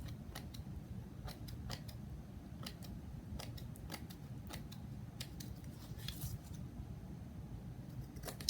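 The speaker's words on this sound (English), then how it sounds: "just use some regular scissors to trim off these little stray hairs or fibers" Regular scissors snip stray fibers from the edges of a printing block in a quiet room, giving a string of crisp, close cutting clicks in an irregular rhythm over faint background hiss.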